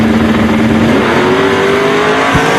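Drag race cars, a Chevelle and a Nova, roar loudly in a steady, sustained run at a drag strip, the engine note climbing in pitch as they accelerate hard, with a brief thump near the end.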